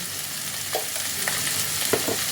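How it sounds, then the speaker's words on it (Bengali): Vegetables with spring onion and a little salt frying in a pan for chicken vegetable soup, a steady close sizzle broken by a few stirring scrapes, no speech. "এই সব কিছুকে দিয়ে খানিকটা ফ্রাই করে নেব।"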